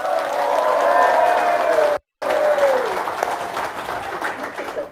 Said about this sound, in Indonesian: tepuk tangan dong, luar biasa